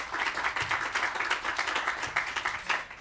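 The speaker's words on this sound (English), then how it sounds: "Please give him a round of applause." A ribbon-cutting ceremony crowd claps for a state representative, a fairly quiet outdoor-sounding round of scattered hand claps with an uneven, pulsing density.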